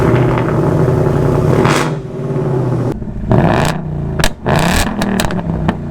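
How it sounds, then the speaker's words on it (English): Ford Mustang with a Coyote V8 revving through its exhaust, a sustained loud drone that drops off, then sharp repeated blips and rises in pitch, close and alone with no talking. "I have loved the exhaust on this car."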